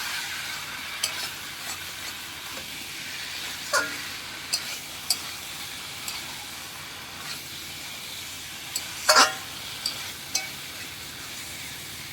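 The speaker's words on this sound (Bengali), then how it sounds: "এইবারে মাংসটা আমি কষবো" Meat being sautéed with fried potatoes in a pan, a steady background sizzle and hiss broken by sharp clinks and scrapes of a spoon stirring, close and with no talking.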